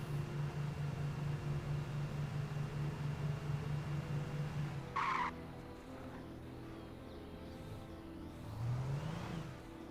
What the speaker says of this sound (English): These cars do not drive nice and smooth.